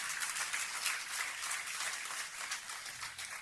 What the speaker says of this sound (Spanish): applause to the Lord.